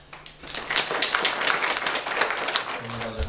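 An audience at a book presentation dedicated to a national hero applauds with dense, rapid clapping that swells and holds for a few seconds, and a voice begins just at the end.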